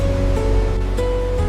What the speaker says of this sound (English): The sheer force of the falling water creates a continuous mist